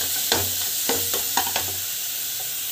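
Ginger garlic paste with salt sautés in a pan, a constant hiss of frying broken by a handful of scraping stirs, close and steady without speech.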